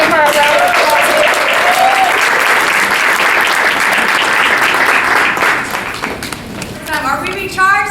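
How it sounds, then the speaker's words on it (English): A loud, steady round of applause from a crowd at a coaching event, continuous clapping that thins toward the end as voices come in over it. "let's give her a round of applause here"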